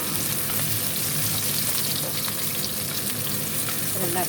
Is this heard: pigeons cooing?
no